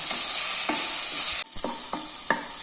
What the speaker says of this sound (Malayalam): രണ്ട് വലിയ തക്കാളി ഇതിൽ കിടന്നിട്ട് നന്നായിട്ടൊന്ന് വഴന്ന് സോഫ്റ്റ് ആയിട്ട് വരണം